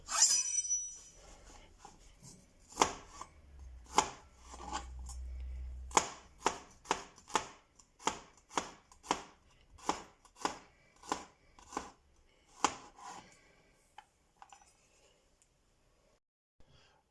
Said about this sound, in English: let's start off by finely chopping the garlic up